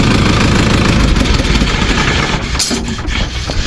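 An old Sonalika tractor engine idles loudly nearby, a steady rumbling chug with a rough, vibrating tone throughout.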